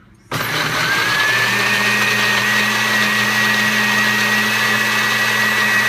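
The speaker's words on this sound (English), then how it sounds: "It's a KitchenAid blender and I love it. I'm going to set this sucker on puree." A KitchenAid blender pureeing switches on with a sudden jump and then runs as a loud, steady motor whine with a constant hum, close up and unbroken to the end.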